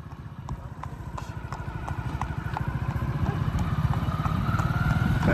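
Horse hooves clip-clop in a steady, continuous rhythm during a village ride with friends, the beat growing louder and closer over the clip alongside a low engine-like rumble.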